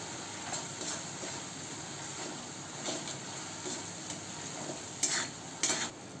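Chopped tomatoes with salt sautéing in a pan for a Marathi-style potato curry with no onion or garlic, a steady low sizzle with soft spoon scrapes and a few sharper metallic clinks near the end.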